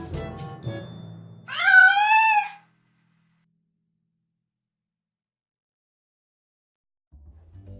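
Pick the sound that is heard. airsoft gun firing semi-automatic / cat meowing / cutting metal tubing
cat meowing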